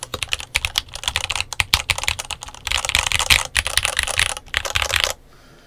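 Typing on a MatthewTech MK80 Max mechanical keyboard: rapid, close clacking keystrokes in uneven bursts with brief pauses, stopping abruptly near the end into near silence.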